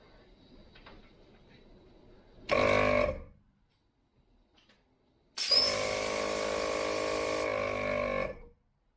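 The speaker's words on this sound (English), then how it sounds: "turn on the compressor, get it up to pressure, and then I'm going to try turning on this solenoid" An ARB air compressor running up to pressure. It makes two loud, buzzing motor bursts, one short and one lasting about three seconds, separated by near silence.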